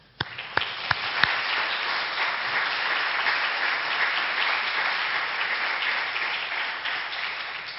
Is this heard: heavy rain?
no